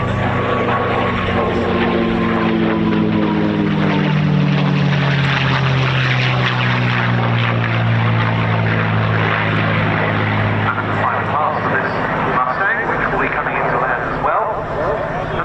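A P-51D Mustang propeller fighter flies past at the RAF Cosford air show, a loud sustained engine drone whose pitch slowly falls as it passes, with a commentator talking over the top.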